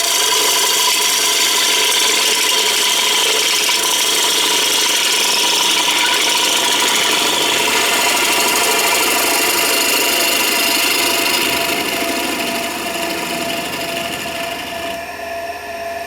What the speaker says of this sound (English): So I want to do one sweeping cut from the outside the shoulder right into the middle